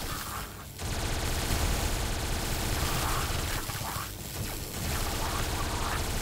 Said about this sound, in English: I meant Tommy gun.